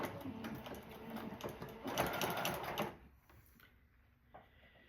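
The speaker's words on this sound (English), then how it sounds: "I'm going to sew from this corner to this corner and this corner to this corner" A sewing machine stitching diagonally through the layers of a rag quilt, its quick mechanical whirr steady and close for about three seconds before stopping, leaving quiet handling noises.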